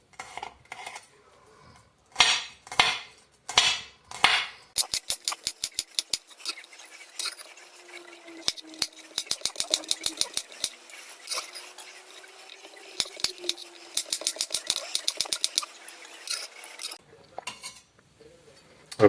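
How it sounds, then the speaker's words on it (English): A knife finely chops garlic on a cutting board in a home kitchen, with quick bursts of close, sharp rhythmic taps, short pauses between runs and a faint background hum. "I'll start off by finely chopping the garlic up first"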